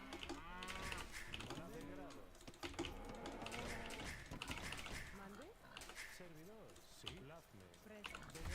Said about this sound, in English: Nice, we found our last cow.